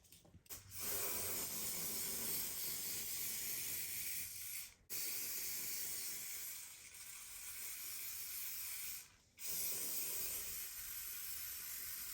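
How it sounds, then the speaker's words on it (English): Three long, steady bursts of aerosol spray hissing, each a few seconds long with brief gaps between, close and fairly loud. "I'm going to go with the spray instead"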